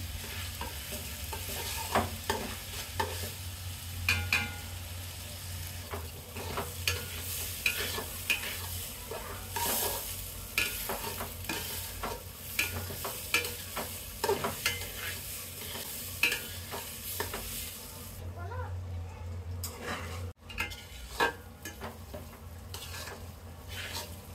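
Rice being stir-fried in a pot for tehari, with steady scraping stir strokes and a continuous low sizzle running throughout, fairly close and with no talking.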